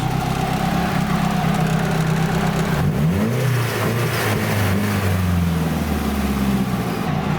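A Nissan 240SX with a turbocharged SR20 engine and boost controller idles loudly up close, then blips the throttle and lets off, the engine note sweeping up and down with a fluttering turbo chatter before settling back to a steady idle.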